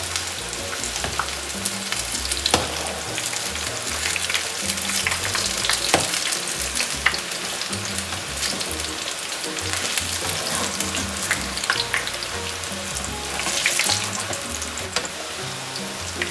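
Vegetable pakoras with large, delicate leaves fry in hot oil, a dense continuous crackling sizzle up close with scattered pops and spatters throughout, no voices.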